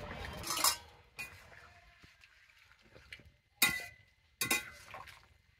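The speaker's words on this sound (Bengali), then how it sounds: "সব একসঙ্গে আমি ঝোলের উপরে ছেড়ে দিচ্ছি" Chopped tomato, onion and slit green chilli dropped into boiling curry, heard as a few sharp clinks and scrapes of a utensil against the pot, spaced apart with quiet simmering between them.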